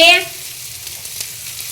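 Food fries in oil in a pan in a home kitchen: a brief tone at the start, then a steady, soft sizzling hiss that continues to the end.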